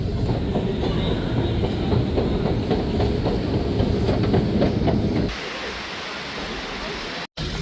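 A Saint Petersburg metro train rumbles and rattles with rhythmic clicking near Admiralteyskaya station, loud and steady, then the noise drops abruptly to a quieter hum.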